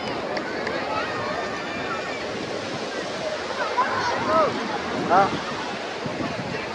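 Sea waves and steady wind at the Mumbai seafront make a continuous broad rush. Voices talk over it throughout, with a couple of louder swells.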